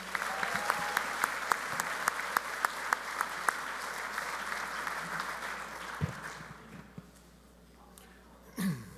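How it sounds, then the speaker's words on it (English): Audience at a Labor Day breakfast applauds the Labor Council president with steady, dense clapping that fades after about six seconds, leaving quieter room noise and a brief louder burst near the end. "Let's give Lou another round of applause"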